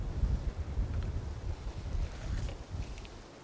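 Light breeze blowing outdoors at a fishing spot, soft low rumbling wind buffeting the microphone steadily and faintly, no voices.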